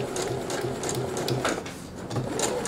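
A sewing machine stitches a nautical-themed cushion, its needle running in a steady, even rapid rhythm from start to finish, close and fairly loud with no talking.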